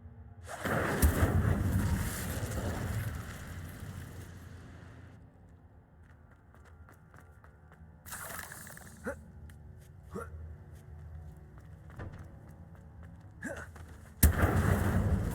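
Incendio fire spell cast in Hogwarts Legacy: a loud fiery whoosh and burst at the start, then quieter clicks and a few sharp hits, with another loud blast near the end.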